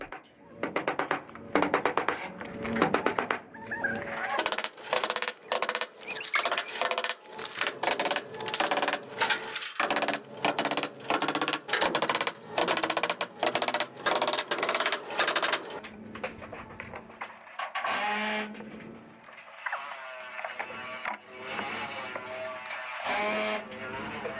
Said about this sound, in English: I'm gonna go ahead and pound those in about every 4 to 6 inches around the whole perimeter of this sheet of plywood